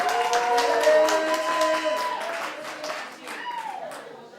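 A lounge audience at a live showcase and after-party gives a round of applause, with scattered clapping and some cheering under raised voices and background music, fading slightly toward the end.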